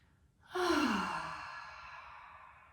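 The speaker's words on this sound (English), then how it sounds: "Take some big, full, deep breaths" A single deep, audible breath taken during a gentle beginner's yoga flow, a long drawn exhale that swells quickly and then fades slowly, close and alone.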